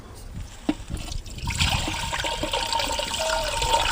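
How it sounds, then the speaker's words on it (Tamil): Tamarind water poured from a ladle into a cooking pot, a steady splashing trickle that swells and continues close by for several seconds. "புளி தண்ணி ஊற்றி இதுக்கு மேலே பச்சை தண்ணி ஊற்றிக்கலாம்."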